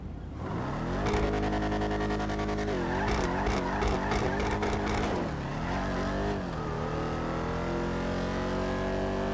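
A Chevrolet Camaro ZL1 1LE in GTA Online revs loudly and accelerates hard. The engine pitch climbs through several quick gear shifts, then settles into a sustained high-speed drone.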